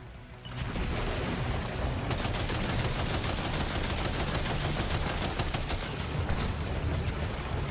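Grenade pistol fire in Death Stranding 2, a dense continuous barrage of rapid shots and impacts that stays loud and steady for several seconds with no talking.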